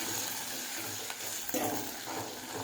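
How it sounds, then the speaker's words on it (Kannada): Ginger and garlic frying in oil for a cauliflower and egg curry, a steady hiss of sizzling with a few scraping stirs of a spoon in the pan, close and moderately loud throughout. "ಅದನ್ನು ಶುಂಠಿ ಬೆಳ್ಳುಳ್ಳಿ ಚೆನ್ನಾಗಿ ಫ್ರೈ ಆಗಬೇಕು."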